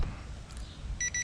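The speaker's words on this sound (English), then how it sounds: "Transmitter's beeping." A drone transmitter gives its low-battery warning for an XD1 Pro HD camera drone, two short high electronic beeps in quick succession over a faint background rumble.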